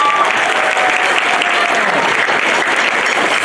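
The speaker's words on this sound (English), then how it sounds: "Can you give one more round of applause for the drum line," Audience at a middle school spring band concert applauding the drum line, a loud, dense and sustained round of clapping from a crowd filling the whole moment.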